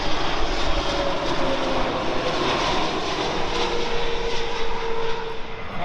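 An SAS Connect Airbus A320neo arriving at London Heathrow from Stockholm produces a loud, close, continuous engine roar with a faint whine running through it, alone with no talk.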